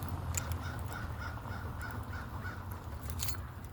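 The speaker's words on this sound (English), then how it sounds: "You see all these crows?" A large flock of crows caws repeatedly from a distance along a road lined with telephone poles, harsh calls scattered over steady outdoor background noise.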